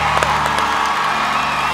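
A studio audience applauds and cheers for a talent show contestant, a loud, dense roar of clapping and whoops that fills the whole short stretch.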